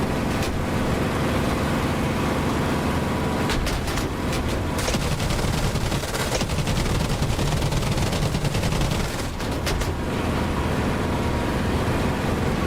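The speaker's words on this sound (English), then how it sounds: "Right, there they are, they're firing at me." Enemy gunfire rattles in the DCS flight simulator, bursts of rapid shots cracking over a loud, constant aircraft engine drone, with clusters of sharper hits coming in short volleys.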